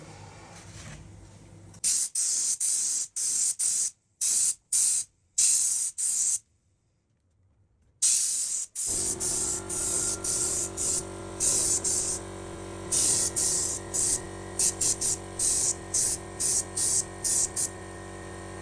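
Aerosol spray paint hisses in a series of short bursts, then longer steady passes, as a thick third coat goes onto a BMW E39 door handle, loud and close with brief silent gaps between sprays.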